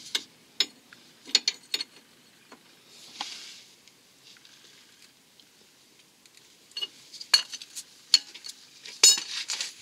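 Wrench tightening a front wheel alignment lock nut, giving close, crisp ratcheting clicks and metallic tool clatter in short irregular bursts, with quieter gaps between them and no speech.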